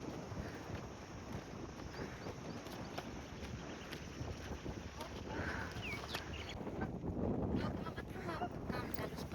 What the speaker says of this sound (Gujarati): પવન કેવો મસ્ત આવે